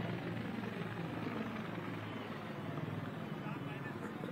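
A helicopter runs nearby, its engine whine and rotor thrum holding steady as a continuous droning background while someone talks over it.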